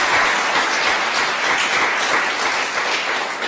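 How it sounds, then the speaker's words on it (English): Audience at an evening Welsh television event gives a warm round of applause, a dense, steady wash of many hands clapping that holds at full strength throughout. "Yes, please give them a warm round of applause."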